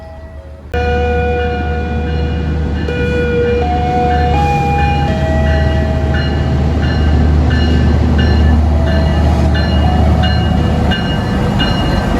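Lodaya regular passenger train on the Solo Balapan–Bandung route passing at Banjar station, a loud, continuous rumble of wheels and carriages with a sustained horn tone, close by, steady for the whole stretch with no talk.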